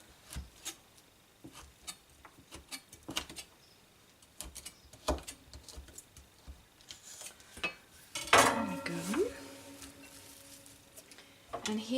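Knife chopping vegetables on a board for homemade tomato salsa, a series of sharp, irregular taps close by, some quick and clustered, ending in a louder clatter of kitchenware.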